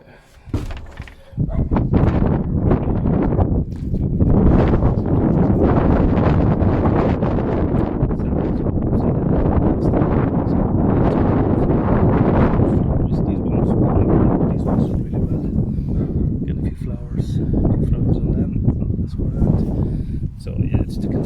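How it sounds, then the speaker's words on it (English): Strong wind buffets the microphone in a garden, a dense, continuous roaring rumble that runs nearly unbroken for twenty seconds, with a person speaking faintly beneath it. "A little bit too windy to go."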